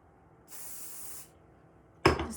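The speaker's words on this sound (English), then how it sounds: "I'm going to spray it again." A spray bottle mists a wig in a single hiss of about three-quarters of a second, close and clear against a quiet room. A sharp clatter of handling follows near the end.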